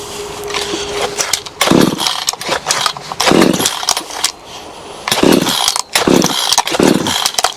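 A cheap Vevor chainsaw is being pull-started on choke, with repeated rough, rasping starter pulls and brief sputters coming in loud bursts about a second apart.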